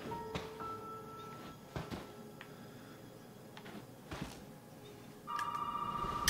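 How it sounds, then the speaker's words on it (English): A telephone rings in the survival horror game Resident Evil 7, with a couple of faint tones early, scattered creaks and knocks, then a sustained electronic ring starting near the end, quiet and alone. "Why is the phone ringing?"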